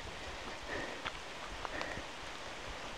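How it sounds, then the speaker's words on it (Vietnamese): Heavy rain falling in a mountain area, a steady dense hiss of drops with a few faint scattered taps, constant and moderately quiet throughout. "mưa nặng hạt quá rồi"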